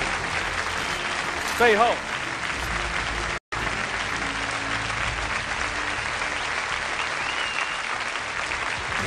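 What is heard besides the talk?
audience applause in a TV studio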